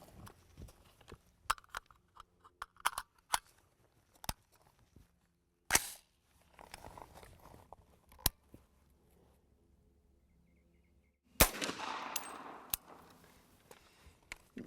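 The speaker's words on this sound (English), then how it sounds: "let's load up this 220 grain bullet. It's a subsonic round." An unsuppressed Smith & Wesson .300 Whisper fires a subsonic 220-grain round outdoors, with two sharp, loud, isolated reports spaced apart amid quiet handling clicks and rustle.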